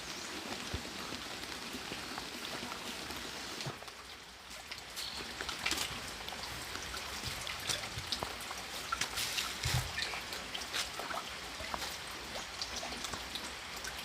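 Steady rain falls outdoors near a house and garden, a continuous broadband hiss with scattered patter of drops that dips briefly around the fourth second before resuming at an even, moderate level.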